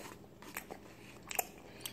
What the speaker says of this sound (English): I'm just gonna eat one of these. I got one of these delicious cheese sticks.